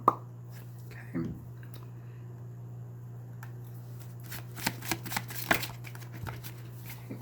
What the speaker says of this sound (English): You got cards flying out.